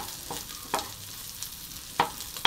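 Garlic fries in a browned pan with a soft, continuous sizzle, broken by a few sharp scrapes and clinks of stirring.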